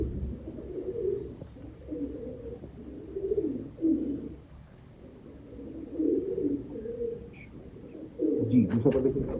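Teddy pigeons keep up steady, low, throaty cooing close by in a loft, in repeated rolling phrases that swell louder near the end, with a faint high whine running throughout.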